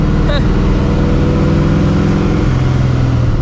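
A loud cammed, Procharger-supercharged 2V Mustang GT with no exhaust tips, its engine rumbling with a choppy idle and low revving drone close by, a brief whistle-like sweep near the start.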